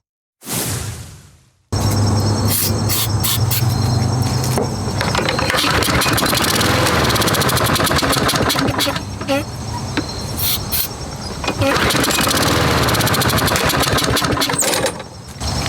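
Lawn mower engine given a quick hot-shot start test, governed near 3,000 RPM. A brief pull sputters first, then the engine fires and runs loud and steady, its drone wavering slightly before cutting off at the end.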